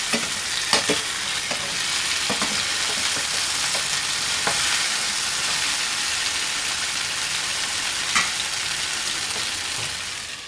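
Chicken tikka pieces frying in a pan as they are turned over, giving a loud, steady close-up sizzle with a few sharp clacks of the utensil against the pan.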